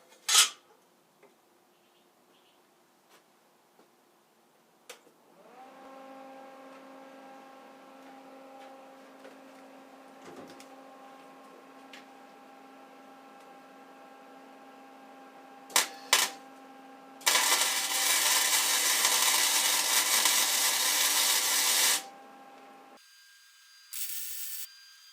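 Tack welding on a scrap sheet of metal in a workshop, heard as a few sharp ticks, then a steady machine hum and a loud, harsh buzzing arc burst lasting several seconds before a quieter stretch.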